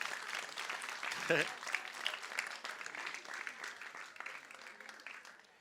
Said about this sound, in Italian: Rifatemi un altro applauso, per favore